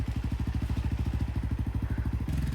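A motorcycle engine idles and pulses in a fast, even chugging rhythm close by as the bike is turned around on a muddy road, shifting pitch slightly near the end.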